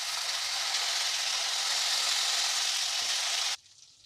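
Curry leaves hit hot oil with frying spices for a Kerala-style chicken curry, bursting into a loud, steady crackling sizzle that cuts off abruptly near the end, leaving a faint hiss.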